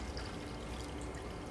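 Water pours steadily into a graduated beaker as a soft, continuous splashing fill, faint and close, with no voices over it.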